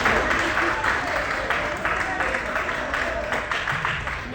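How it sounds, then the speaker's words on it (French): An audience applauds a woman leader at a civic and morals gathering, a steady wash of clapping lasting several seconds, fairly loud and even throughout. "Les applaudissements, s'il vous plaît."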